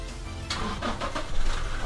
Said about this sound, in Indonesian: Oke, kita cek mesinnya, kita hidupkan.